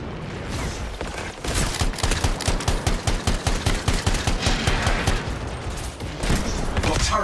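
Turrets in the Anthem video game fire a steady, loud, rapid stream of gunfire that pounds on rhythmically for several seconds, with dense battle noise around it.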